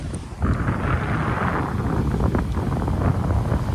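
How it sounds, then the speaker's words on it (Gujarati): Sea water surging and splashing close by at the seaside as the tide fills in, a broad rushing wash with wind buffeting the microphone throughout. "જુઓ કેવું પાણી ઉડે"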